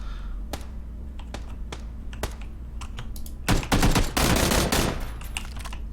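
Automatic gunfire in PlayerUnknown's Battlegrounds, with several single sharp shots followed by a loud sustained burst of rapid fire lasting about a second and a half, then fading back to game ambience.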